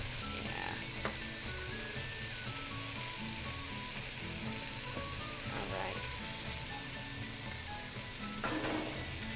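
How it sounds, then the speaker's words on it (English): Meat sizzles steadily in an enamel pan, a dense continuous frying hiss throughout, with someone talking briefly over it and a few light clinks. "This is starting to sizzle up."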